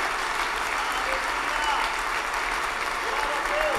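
A church congregation applauds in a continuous, even patter of clapping, with scattered voices calling out faintly beneath it.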